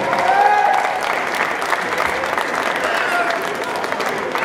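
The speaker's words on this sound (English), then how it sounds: "Give him a big round of applause, everybody." Audience applause at a cosplay contest final, a steady wash of clapping sustained for several seconds with a whistle near the start and a faint voice over it.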